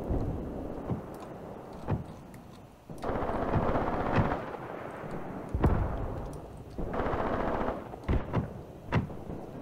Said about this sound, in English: My mortars are firing.